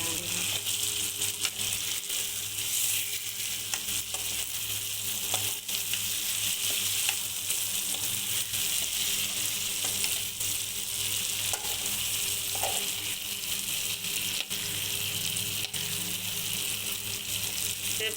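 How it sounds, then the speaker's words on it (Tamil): Egg roast fries lightly in a pan, giving a dense, even sizzle that holds steady for the whole stretch, with occasional faint scrapes of stirring, close and with no one speaking. "அப்படியே ரொம்ப பிரட்ட வேண்டாம் லைட்டாக ஒரு ஃப்ரை பண்ணிவிட்டு"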